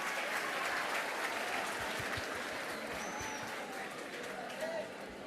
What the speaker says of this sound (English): they deserve a bigger and louder round of applause for all the Stanislaus